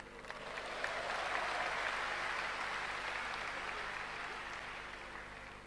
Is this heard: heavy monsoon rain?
no